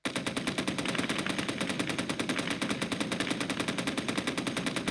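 A DShK heavy machine gun fires in the video game Call to Arms: Gates of Hell, producing loud, sustained, rapid automatic fire with evenly spaced shots throughout and no pauses.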